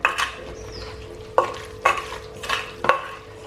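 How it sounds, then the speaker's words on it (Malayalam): A spoon scrapes and knocks through beef biryani mixture with water in a pressure cooker, four or five distinct stirring strokes over a low steady hum, close and moderately loud. "വെള്ളം ഒഴിച്ച ശേഷം ഒന്ന് ഇളക്കി കൊടുക്കാം"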